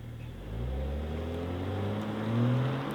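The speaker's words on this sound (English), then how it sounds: "let's get this car out on my designated piece of tarmac and test out its claimed acceleration figures" A BMW M340i xDrive Touring petrol estate pulls away on tarmac, its engine note climbing in a steady drone that swells as it gathers speed, close and fairly loud with no talk.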